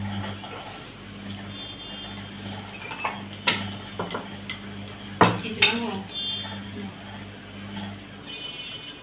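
Utensils clink against dishes while a meal of shrimp with Malabar spinach is eaten from a clay pot, with a few sharp scattered clanks over a low steady hum and faint background voices.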